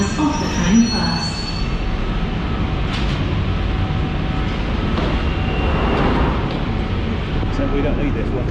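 A London Underground or suburban train rolls in at a platform, with continuous low rumble and brief wheel squeal near the start, steady and fairly loud throughout, with people talking nearby.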